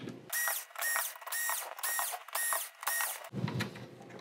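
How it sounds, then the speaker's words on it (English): A powered screwdriver whirs in six evenly spaced, steady bursts, backing screws out of a Sharp Aquos LC-60EQ10U television. The sound is close and fairly loud, with a short rattle of handling at the end and no talking. "Let's get the screws out of here and we'll be ready to go."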